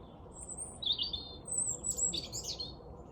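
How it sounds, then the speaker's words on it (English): Small birds chirping outdoors, several bright tweets and short trills coming in bursts with pauses, fairly close over a quiet background. "Can you hear all the birds?"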